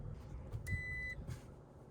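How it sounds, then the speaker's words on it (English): A single steady electronic reversing beep from a pickup truck sounds for about half a second over a low engine rumble, followed by a fainter echo of it. "you've heard the truck beep when you go into reverse"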